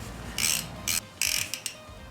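A ratchet wrench tightens the oil drain bolt on a Suzuki DRZ400 motorcycle during an oil change, giving several short bursts of sharp clicking separated by pauses, close and clear with no talk.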